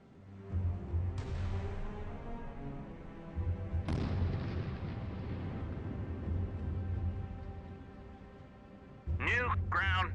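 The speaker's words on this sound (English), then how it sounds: "Salvo fire." Naval salvo fire in Sea Power: two sharp launch blasts a few seconds apart, each followed by a roaring tail over a steady low hum, before a brief burst of sound near the end.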